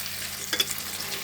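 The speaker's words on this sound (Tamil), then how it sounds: "சேப்பங்கிழங்கு போட்டாச்சு, நல்லா வதக்கிடலாம்." Taro root sautéed with softened tomato in a pan gives a steady, close sizzle, with a brief scrape of stirring partway through.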